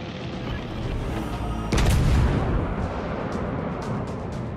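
Heavy naval gunfire in the World of Warships: Legends game, a dense rumbling barrage that swells with a louder boom partway through and continues as a thick, sustained roar of distant and near cannon shots.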